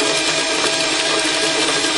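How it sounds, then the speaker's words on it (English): Gears of a 1928 Ford Model A transmission spun by an electric drill, a loud steady whirring grind with a dense, unbroken mechanical hum and no pauses. "And you will see that when I start the drill."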